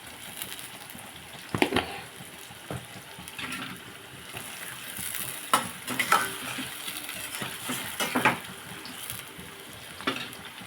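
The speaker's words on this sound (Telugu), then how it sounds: "కాసేపు ఉల్లిపాయ అంతా మగ్గనిద్దాం." Chopped onions cook softly in a pan with a little salt for a tomato egg curry, a faint low sizzle broken by a few sharp scraping stirs, no voices.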